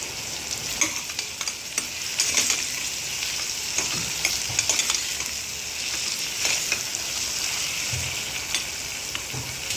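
Whole cloves and cinnamon sizzle and crackle steadily in hot oil as the tempering for Gujarati vaghareli khichdi, with occasional stirring scrapes, close and continuous, no talking.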